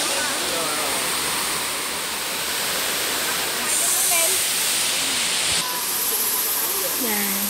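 Ng Tung Chai waterfall's bottom falls in Hong Kong roar as a loud, steady broadband rush of falling water, continuous throughout, with faint voices and birdlike chirps in the background.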